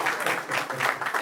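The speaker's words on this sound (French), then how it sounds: "applaudissons." Brief burst of audience clapping at a French-language promotion ceremony, a dense patter of hands at moderate loudness, heard alone for about a second.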